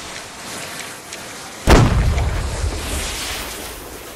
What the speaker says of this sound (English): Cannon's barely missing.